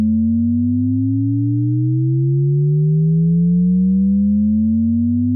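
A smooth electronic tone glides steadily upward in pitch for several seconds, loud and continuous, with a pulsing low hum underneath.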